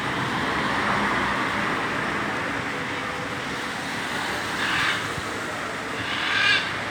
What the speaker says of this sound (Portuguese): Na avenida, os carros passando, ó.